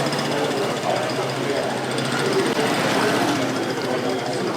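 Night street in Arusha, Tanzania, with motorbikes passing, their rapid rattling engine chatter running continuously and loud, mixed with crowd noise and background murmur.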